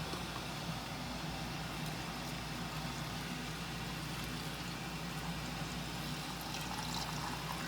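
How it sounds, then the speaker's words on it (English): Brine pours steadily into a jar packed with garlic dill pickles, a continuous low liquid rush with a faint trickling wash, even in level throughout and heard alone with no talking. "pour your brine in"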